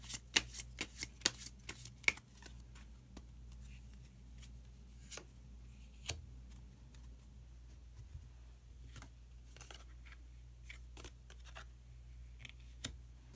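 Tarot cards are shuffled and drawn, with a quick flurry of soft papery flicks at first, then sparse slides and taps of cards being laid out, close and quiet against a low steady hum.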